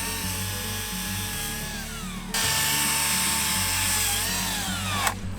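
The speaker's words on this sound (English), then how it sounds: "then you just set down the chainsaw and cut through it" A chainsaw runs at a steady high whine while cutting through a tree, shifting pitch as the blade bites, with a brief dip near the end; loud, close and continuous, with no talk.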